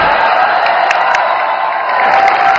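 A hall full of people claps continuously for a selfie taken with the prime minister, a loud, dense wash of applause from a large crowd, steady throughout with scattered cheers.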